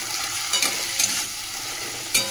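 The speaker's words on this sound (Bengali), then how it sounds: "একটু নেড়ে নিলাম তেলের মধ্যে, আদা রসুনের গন্ধটা চলে যাবে।" Ginger garlic paste fries with onions in hot oil, a continuous close, loud sizzle broken by a few stirring scrapes of a spatula.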